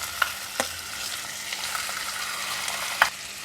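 Pork shoulder sizzling in hot rendered pork lard inside a clay pot, a steady close frying hiss punctuated by a few sharp knocks of a utensil against the pot.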